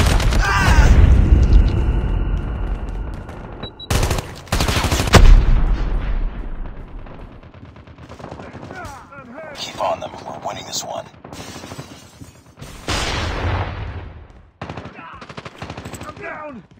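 Gunfire in the mobile video game Call of Duty Mobile during a Domination match, loud bursts of rapid shots and booms up front, then scattered shots and game voice callouts over the rest of the clip.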